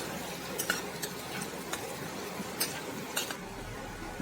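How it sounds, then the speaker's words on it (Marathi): Green chillies for sabudana khichdi are sautéed in a pan with a faint, soft background sizzle and a few light scrapes and taps of the spoon. "हे बघा असं चांगलं परतून घ्यायचं एकसारखं"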